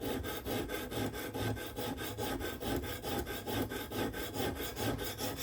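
A knife is ground on a coarse 140 grit stone in a fast, steady back-and-forth rhythm of gritty rasping strokes, close up and continuous with no voices.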